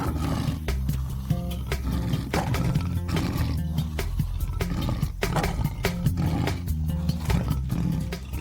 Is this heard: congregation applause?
no